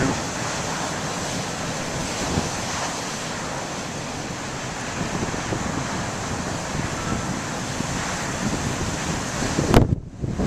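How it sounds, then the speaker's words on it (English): Big ocean waves crashing in strong wind, a steady, loud roar of surf and buffeting wind noise on the microphone that holds throughout, with a sharp knock near the end. "Check out the waves and the spray water."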